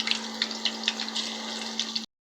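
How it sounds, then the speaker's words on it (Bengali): Marinated chicken pieces fry in hot oil, a faint, steady crackling sizzle with small popping bursts over a low electrical hum, cutting off abruptly after about two seconds. "এখন আমি এটাকে তেলে ভাজবো"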